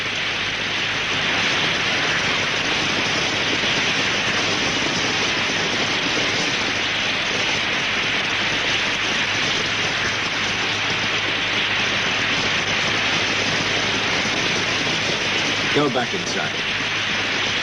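Steady, loud rain pours outside in a 1978 martial arts film scene, a dense hiss filling the whole stretch while someone speaks briefly over it near the end.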